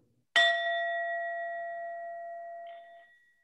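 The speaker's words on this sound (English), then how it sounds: "We ring this bell" A single memorial bell struck once, ringing out clearly with a sustained, slowly fading tone over a few seconds in a quiet space.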